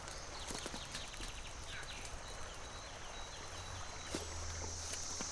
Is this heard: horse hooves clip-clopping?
yes